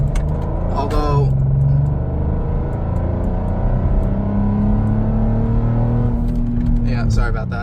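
A 2014 Porsche Cayenne engine revs steadily close by, a continuous loud drone with rising and holding tones for several seconds, with a brief voice near the start and end.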